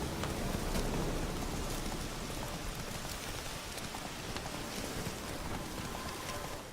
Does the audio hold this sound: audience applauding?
no